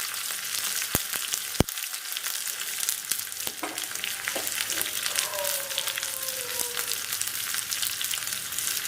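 Garlic frying in a pan for beetroot paratha, a steady, soft sizzle running throughout with a few sharp clicks and faint stirring sounds.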